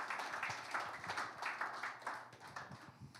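Church congregation clapping as a clap offering of praise: steady, moderately faint rhythmic applause from many hands, continuous throughout.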